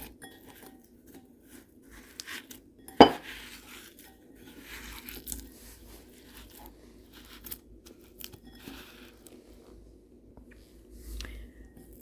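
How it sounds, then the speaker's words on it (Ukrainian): Butter and sugar being mixed by hand in a bowl for Belgian waffle batter, with quiet, irregular scraping and soft rubbing, plus one sharp knock near the start. "Сюди додаємо 100 грам цукру і перемішуємо."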